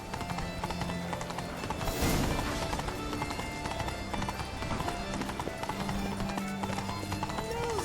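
A ridden horse gallops in The Witcher 3, its steady clip-clop hoofbeats drumming close and even throughout, layered with game music and ambience, with a brief louder burst near the start.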